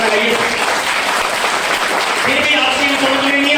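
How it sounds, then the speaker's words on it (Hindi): A large audience at a motivational speech event bursts into loud, steady applause, the dense clapping filling the hall throughout, with a voice heard over it. "ताली जोरदार हो जाए।"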